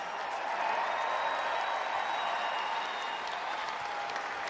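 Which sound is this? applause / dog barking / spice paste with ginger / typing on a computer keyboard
applause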